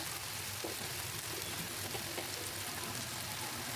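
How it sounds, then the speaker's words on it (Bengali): Shrimp and Malabar spinach fruits frying in a pan over medium heat make a soft, even sizzle with faint crackles throughout, fairly quiet. "লবণ আর হলুদ গুঁড়াটা দিয়ে মিডিয়াম হিটে খুব সুন্দর করে নাড়াচাড়া করে এটাকে ভেজে নেব"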